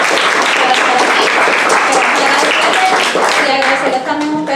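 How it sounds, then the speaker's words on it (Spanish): Loud, steady applause from an audience welcoming the organizations present at a gathering on Marxism in Puerto Rico, dense clapping with crowd murmur throughout. "un fuerte aplauso a todas las organizaciones presentes por sacar el tiempo para estar aquí"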